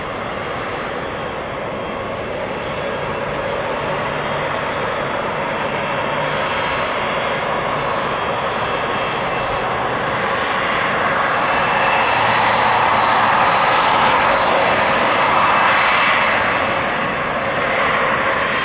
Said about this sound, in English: 6-year-old 767-300 freighter